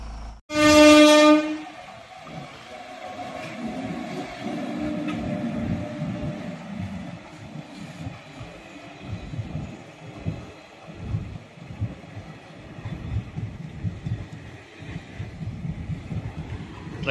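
A train near Araku sounds a loud, close horn blast lasting about a second, then rumbles past steadily with clattering wagons for the rest of the stretch.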